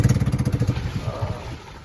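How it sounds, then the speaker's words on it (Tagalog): A small boat's engine chugs to life with a steady rapid putter that is loud and close at first, then evens out into a smoother running drone. "Pinapaandar niya po ngayon yung ano, makina at ngayon umandar na."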